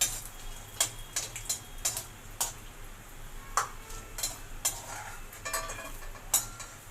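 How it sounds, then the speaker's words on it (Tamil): A spoon stirring 7–8 cashew nuts frying in hot ghee in a pan, giving light repeated ticking clinks at an irregular rhythm over a soft sizzling hiss, close up and without speech. "ஒரு 7-8 கேஷ்யூ நட்ஸ் போட்டு அதை வறுத்து வச்சுக்கிறேன்"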